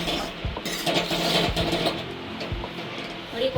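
A spoon scrapes and stirs a thick ghari mixture of sugar and ghee in a metal pan, the famous Surat sweet, making repeated close clinks and scrapes while a person talks over it.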